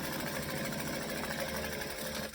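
A sewing machine back stitching fabric hums steadily with a fast even mechanical chatter throughout, close and continuous, tapering off at the very end.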